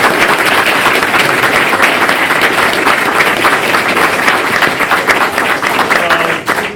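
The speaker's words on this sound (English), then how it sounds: "Can we have a round of applause for our candidate?" A crowd at a Minneapolis ward candidate forum applauds the candidate, loud sustained clapping that fills the room and starts to thin out near the end.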